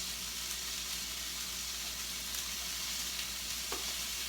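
Carrots and onions frying in a stir-fry pan give off a steady, even sizzle at close range, a continuous hiss with one faint clink near the end and nobody speaking.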